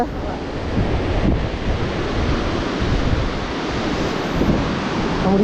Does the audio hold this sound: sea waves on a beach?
yes